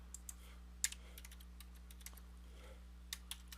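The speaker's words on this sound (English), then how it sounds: "a lot of typing there" Keys on a computer keyboard clack in an irregular run of sharp, separate taps, some louder than others, close up over a steady low electrical hum, while a formula is being entered.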